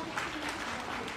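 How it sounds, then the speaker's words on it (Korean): Standing ovation at an education forum, an audience clapping for first-generation scientists, a quieter, somewhat distant patter of many hands over a short stretch. "다시 한번 우리 1세대 과학자 이 귀하신 분들에게 기립박수로 우리의 감사함을 드리겠습니다."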